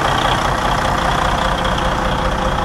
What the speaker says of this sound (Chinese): 我们需要把发动机热个半小时吧